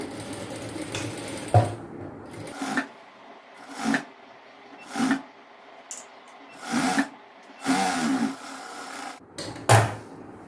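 A sewing machine stitches a chudidhar pant in short bursts, each run of whirring a second or so long, separated by pauses with quiet handling of cloth.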